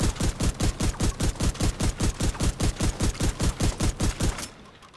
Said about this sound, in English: Let's try the shotgun.